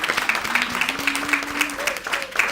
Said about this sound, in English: I would like you to give a round of applause for Ms. Catherine Sealis and all the directors